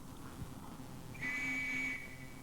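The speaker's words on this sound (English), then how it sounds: "the traditional Metropolitan Police whistle was brought in mainly to discard the cumbersome wooden rattle, and it's got its own distinctive sound" A traditional Metropolitan Police whistle gives one steady, shrill blast of just under a second, clear and moderately close over a faint background hiss.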